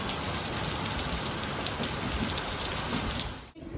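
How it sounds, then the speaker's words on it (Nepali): Steady rain falling suddenly with no wind, a dense, loud, continuous hiss of drops on surfaces that cuts off abruptly near the end. "पानी चाहिँ यस्तो पर्नु थाल्यो एक्कासी हो"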